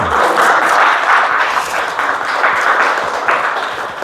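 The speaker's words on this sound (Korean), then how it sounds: "박수 쳐대래." An audience at a forum lecture breaks into steady, dense applause that holds at an even, loud level throughout, a continuous wash of many hands clapping with no voices on top.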